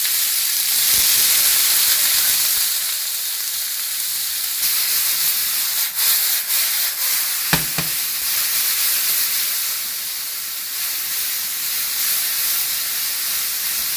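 Beef sears in a hot pan for an Austrian-style Hungarian goulash, giving a loud, continuous sizzle and hiss with a few sharp crackles and stirring scrapes partway through, no talk.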